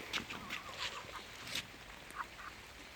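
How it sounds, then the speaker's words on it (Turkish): Quiet clucks and short squawks from chickens, scattered and irregular over faint background noise, heard at a moderate distance. "tavuklar burada"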